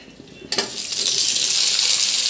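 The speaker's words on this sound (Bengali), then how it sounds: "এবার কড়ার মধ্যে আরও একটু তেল দিয়ে গরম করে সবজিগুলো দিয়ে দেবো।" Vegetables, potato and onion, are dropped into hot oil in a kadai with a sudden clatter, and a loud, steady sizzle then swells and holds close up.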